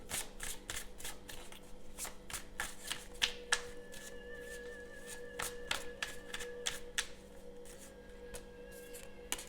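Tarot cards shuffled by hand in a quick, close series of crisp slaps and riffles over a faint steady hum, with no talking.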